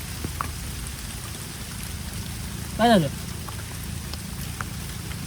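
Rain falls steadily on dense jungle, a soft, even patter across the whole stretch, with a brief spoken voice cutting in midway.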